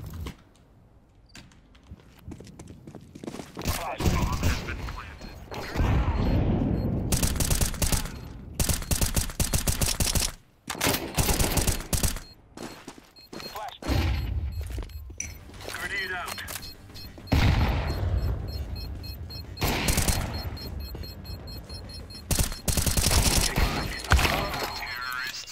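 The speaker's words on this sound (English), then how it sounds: "you're shooting too many bursts again" Rapid gunfire bursts from Counter-Strike 2 on the Inferno map, dense rattling volleys repeating through the whole stretch with short gaps, loud and close, while people talk over them.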